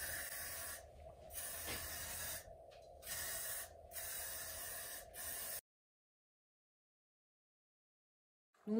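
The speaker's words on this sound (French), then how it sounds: "ça vous permet de bénéficier d'une gâchette, d'un pistolet quoi, sur une bombe. Donc là, c'est le vernis acrylique mat." Matte acrylic varnish hisses from an aerosol can fitted with a trigger grip, sprayed in three steady close bursts separated by brief gaps before the sound stops into silence.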